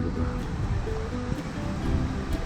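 Atlantic Ocean waves wash onto the shore at a surf-school beach in Rabat, Morocco, producing a continuous, fairly loud rushing surf with some wind buffeting the microphone and no talking.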